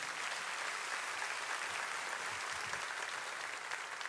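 A church congregation applauds, dense and steady clapping from many hands heard at a distance, sustained without pause throughout.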